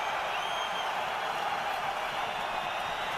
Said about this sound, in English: This crowd going wild.